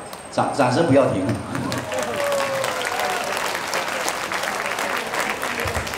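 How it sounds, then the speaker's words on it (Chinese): An audience claps steadily through a Chinese-language evening stage show at Blk 222 Ang Mo Kio Avenue 1 in Singapore, a dense wash of applause that swells early and then holds, with a voice and music carrying over it. "谢谢你们的掌声的鼓励"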